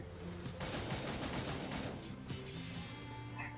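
Gunfire from the video game Cyber Hunter sounds as a rapid burst of overlapping shots lasting over a second, followed by quieter scattered shots, all fairly faint.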